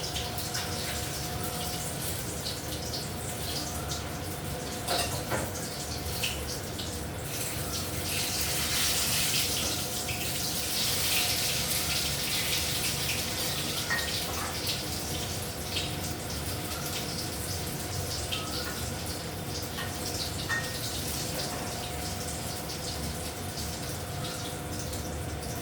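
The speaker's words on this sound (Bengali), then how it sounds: "হাতটা একটু ধুয়ে নিচ্ছি।" Tap water runs steadily while hands are washed at a kitchen sink during cooking of a pumpkin and mustard stuffing, a continuous moderately loud splashing flow with slight surges, no talking.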